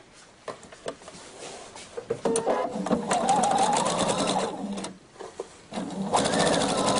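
A sewing machine stitches a kimono seam right up to the last stitch in a steady close run with brief stops and restarts and some handling clicks.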